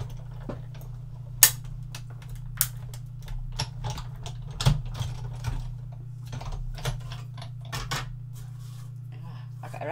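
A die-cutting machine feeds a long folded card for a Stampin' Up fun house fold design, giving a steady low mechanical hum under a run of close, sharp clicks and ticks.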